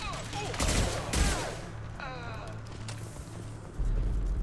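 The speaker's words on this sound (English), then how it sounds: "Taking heavy fire." Bursts of rapid gunfire crackle in a Mass Effect 2 firefight, with a couple of heavy volleys early and scattered shots later, under a low droning background.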